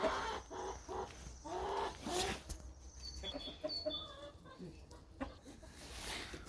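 Free-roaming hens and a rooster in a farmyard on a warm day, with clucks and short calls scattered over a low outdoor background and faint voices.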